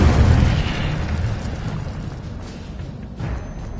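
An Incendio fire spell bursts in a video game, a loud booming whoosh of flame that fades over a few seconds, then a second softer burst near the end, without speech.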